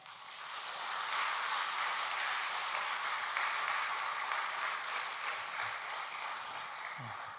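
A church congregation applauds warmly to welcome a missionary at a Wednesday service, a steady wash of clapping throughout that rises quickly and holds at moderate level.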